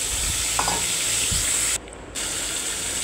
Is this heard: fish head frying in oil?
yes